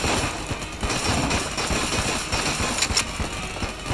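Dense, continuous rapid-fire gunfire from the super meat gun in the Enter the Gungeon video game, loud bursts running steadily under busy game noise with no talking.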